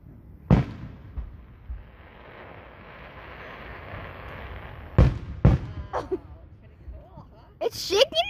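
Fireworks explode outdoors in sharp booming bangs, one early, then a pair of loud blasts and crackling bursts near the end, with wind noise and people talking between them.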